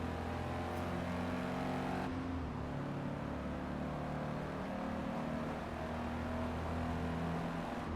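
Race car engine in the Forza Motorsport racing game drones steadily at high revs down a straight, a continuous loud engine tone with a slight pitch shift partway through and no talk over it.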